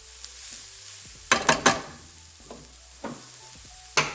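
Veggies sizzle in a pan with cumin and garlic powder, a low frying hiss broken by several sharp spoon scrapes and clinks against the pan, close by.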